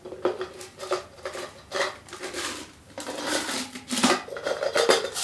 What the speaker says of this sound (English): And then also in the pot, just got 2 pieces of aluminium foil